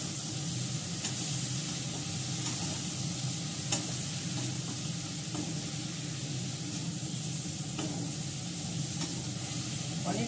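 Fish curry with coriander fries and is stirred in a pan, producing an even, hissing sizzle that runs unbroken, with a few faint scrapes over it.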